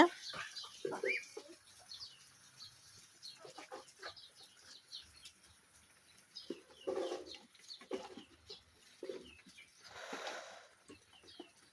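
Rooster and free-range village chickens at a busy poultry market during the Eid and Easter season, with scattered clucks and crowing calls rising over a murmur of crowd noise and brief bursts of activity.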